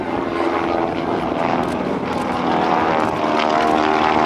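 John Mohr's propeller aerobatic plane flies upside down at the 2012 NAS Oceana Airshow, its engine droning loudly and continuously with a slightly wavering, buzzing roar.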